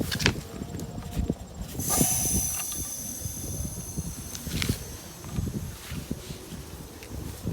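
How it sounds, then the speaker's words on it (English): An air compressor pushes air through a lawn sprinkler hose during winterizing, a busy rhythmic clatter under a sharp high hiss that swells in about two seconds in and then stays, close and moderately loud. "Now we're gonna connect the air hose to the compressor."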